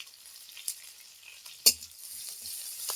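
Grated ginger, chopped green chili and chili flakes are stirred in a pan with a soft, faint sizzle. A single sharp clink of the utensil against the pan rings out midway, with small scrapes around it.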